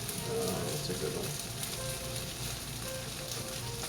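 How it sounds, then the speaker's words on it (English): Onions and garlic fry in a pan with a steady, close crackling sizzle that keeps on without a break for a few seconds, with no voices. "onions and garlic frying in a pan"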